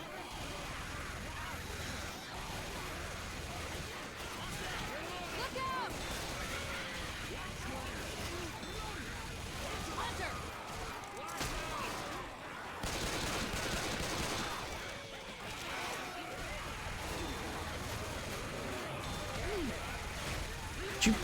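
Rapid turret gunfire in Left 4 Dead 2, continuous automatic bursts under frequent talking, swelling louder in a dense stretch near the middle.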